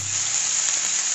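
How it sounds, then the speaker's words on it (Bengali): Chopped onion, tomato and green chili frying in a pan over medium heat, giving a steady, close, bright sizzle with no talking. "মিডিয়ামে রেখে আমি পেঁয়াজ টমেটো কাঁচা লঙ্কাটাকে 1 মিনিট ভেজে নেব।"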